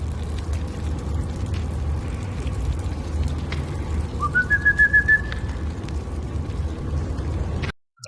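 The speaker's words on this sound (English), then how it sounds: "He whistles like this." A person whistles a short rising then warbling phrase of several quick pulsed notes, clear and fairly near, over a continuous low rumbling background, with a brief cut to near silence at the very end.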